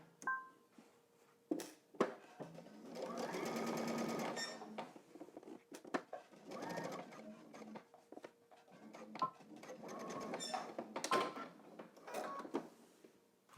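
A sewing machine stitches a pleat seam on pleated pants in short whirring runs, pausing and restarting for backstitches with clicks and handling noises between bursts, close and fairly quiet.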